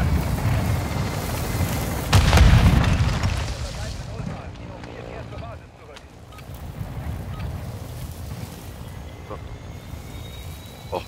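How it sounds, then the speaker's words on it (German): A grenade goes off in Call of Duty Modern Warfare as a single deep, rumbling boom amid game noise, then a lower background rumble afterward. "Das wäre die Achtung, Granate!"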